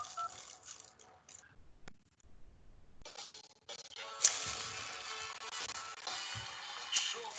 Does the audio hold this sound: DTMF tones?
yes